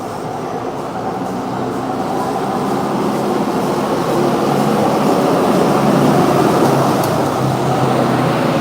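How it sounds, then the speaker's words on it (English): An old trolley train converted into a party bus rolls past on a New York City street, a steady, loud mechanical rumble that swells slightly as it nears, with no voices. "They took an old school trolley train, made it into a bus to make it into a party bus."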